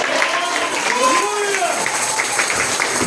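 A church congregation claps in a broad, steady wash of applause, with a voice carrying over it in a rising, sung or shouted tone throughout.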